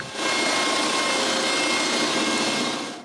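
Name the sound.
drilling air intake hole in wooden bellows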